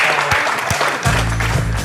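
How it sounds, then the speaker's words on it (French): A short burst of audience applause, dense clapping filling the space with a few voices reacting over it and a low sustained tone entering partway through. "Oh, des applaudissements."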